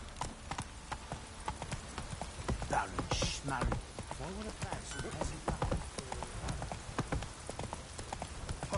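The horse Roach's hooves clip-clop at a gallop through rain in The Witcher 3, a steady run of hoofbeats over a patter of rain, with brief talk partway through.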